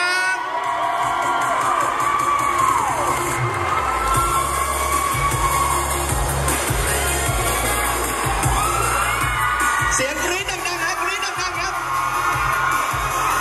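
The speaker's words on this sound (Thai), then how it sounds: "ขอเสียงปรบมือให้กับน้องยอชยงศิลป์วงพนิษฐ์นนท์ด้วยครับ ขอเสียงดังๆครับ" A crowd of fans at a Renata presenter launch event for BamBam cheers, whoops and shouts loudly and continuously, with an amplified voice speaking over the noise and bursts of screaming rising and falling.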